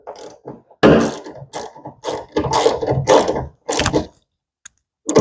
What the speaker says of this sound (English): I can tighten up my hinge